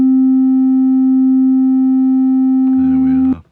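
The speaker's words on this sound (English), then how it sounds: "there you can already hear that chiff type sound happening" A Studiologic Sledge synthesizer patch with a chiff attack: a steady pure tone holds for nearly three seconds, then a brief, brighter, harmonically rich burst swells up before cutting off.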